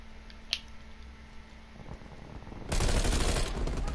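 Gunfire in Call of Duty Cold War Zombies: a faint early shot and distant pops, then a loud sustained burst of automatic fire erupts for the last second or so.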